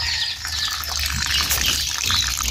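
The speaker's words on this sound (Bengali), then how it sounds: "জলটা দেখুন আস্তে আস্তে কীভাবে বের হচ্ছে।" Coolant streams steadily out of a Kubota harvester radiator, a continuous close splashing trickle with a bright hiss that holds level throughout.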